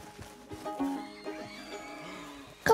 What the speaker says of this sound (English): I'll go get the horse for you.